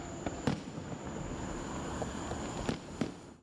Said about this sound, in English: It won't be long before millions of Americans will be enjoying a dazzling display of fireworks.